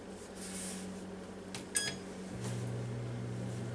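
A Ninja Foodi XL Pro air oven begins its preheat with a single short beep over a steady electrical hum, followed moments later by a lower, louder fan drone that settles in and runs on.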